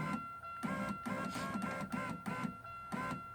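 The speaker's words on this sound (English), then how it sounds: "there's the window motor going up" Electric window regulator motor in a 1999 Buick Century driver door whirring as it raises the glass, a steady mechanical whine with repeated pulsing strokes, close and alone with no talk.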